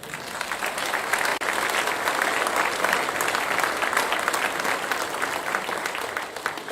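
A church congregation breaks into steady, full applause, a dense wash of many hands clapping that stays loud and even from start to finish.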